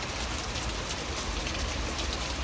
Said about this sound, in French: C'est la tempête. Regarde, bah, je peux pas tourner mais il pleut de malade.